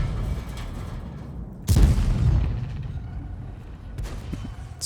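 A single heavy artillery shell slams in during a World of Tanks tank battle, one loud booming impact with a rumbling tail, followed by a fainter crack, over low engine and ambient noise.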